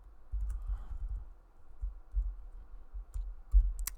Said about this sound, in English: so I'll type that out